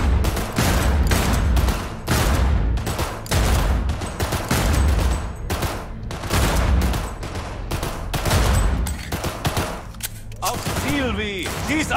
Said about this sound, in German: Schieß aufs Ziel, nicht die Wand.